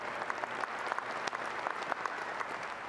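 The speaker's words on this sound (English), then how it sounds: "just give a big round of applause" An audience at a college basketball coach's introductory press conference gives a big round of applause, continuous many-handed clapping with a few sharper individual claps standing out, moderately close and without speech.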